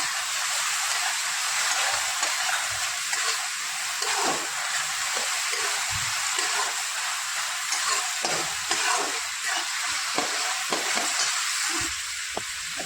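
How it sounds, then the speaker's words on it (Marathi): Onion sautéing in a pan with a splash of water added, a steady frying sizzle and hiss with scattered stirring scrapes, close and continuous throughout. "यात मी थोडंसं पाणी टाकून हा कांदा अजून थोडासा परतून घेणार आहे"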